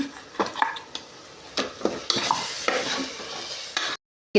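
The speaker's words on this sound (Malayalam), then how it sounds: "ചേർത്ത് നല്ല രീതിക്ക് ഇളക്കി വെക്കുന്നുണ്ട്" A spoon scrapes and stirs ground spice paste of cinnamon, cloves and ginger into chicken curry in a pan. The stirring comes in irregular scraping strokes, close and fairly loud, over faint sizzling, then stops abruptly near the end.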